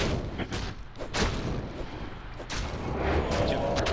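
Nightmare-difficulty Diablo II gameplay with a Necromancer, where the attack aura effect sets off repeated deep, rumbling booms, loud and sustained like artillery blasts rolling one after another.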